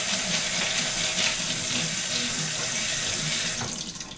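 Tap water runs steadily and loudly into a bean sprouter as the beans are rinsed, a continuous close splashing rush that stops abruptly near the end.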